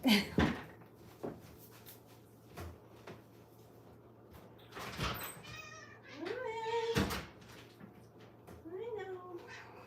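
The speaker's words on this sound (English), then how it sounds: "let me let my cat in" A house cat meows repeatedly to be let in, rising and falling calls with a door or cupboard knocking and a person talking softly nearby.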